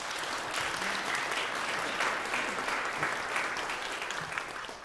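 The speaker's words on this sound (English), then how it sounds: "So just a round of applause for them and our teachers as well." A concert hall audience at a school music concert band performance applauds the music teachers, steady dense clapping sustained throughout at moderate volume.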